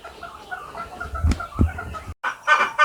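Game fowl at a farm give soft, repeated clucks and low chatter up close, with a couple of heavier thumps and a brief rustle near the end.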